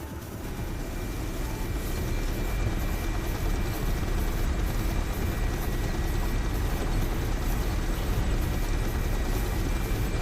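Apache attack helicopter in a combat video game, a steady, loud rotor and engine roar droning on without a break and with no voices over it.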